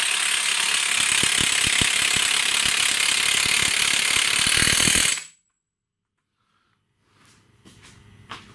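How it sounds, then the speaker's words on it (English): A ratchet clicks rapidly and loudly while tightening a new 34 mm axle nut on a 2009 GMC Acadia front axle, running steadily for about five seconds and then stopping, followed by faint shop sounds. "So now I'm going to put a newer axle nut back on."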